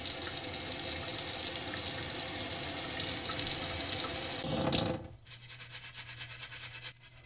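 Water runs steadily from a tap into a surgical scrub sink in a hospital emergency department, a close, continuous splashing rush that cuts off near the end and leaves a quiet room hum.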